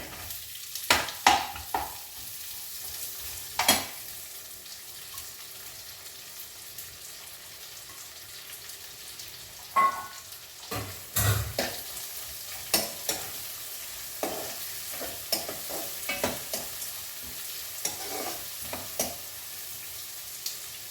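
Onions frying and being stirred in a pan for a sweet potato stew, a steady low sizzle broken by repeated scraping stir strokes, close and fairly quiet throughout with no talk.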